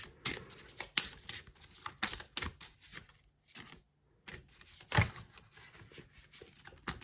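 Tarot cards shuffled by hand at close range, a soft run of papery riffles and taps that comes in quick bursts, with one brief pause partway through.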